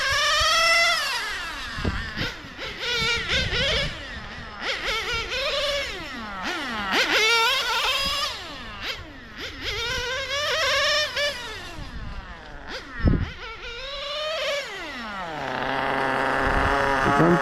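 A Sirio S12 Evo3 four-wheel-drive RC car engine on a track revs up and down in repeated whining sweeps, then settles into a steady buzzing idle near the end, loud and close.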